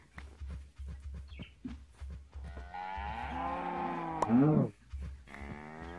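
A cow in DartCraft, a Minecraft mod game, lets out a drawn-out moo that swells and ends in a louder low groan, following soft footsteps and clicks, with a brief voice at the start.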